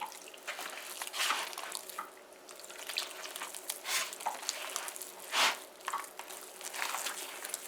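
Water runs and splashes steadily as 8 ounces are poured for a Guyanese biganee fritter batter, with a brief louder gush near the end and no talking.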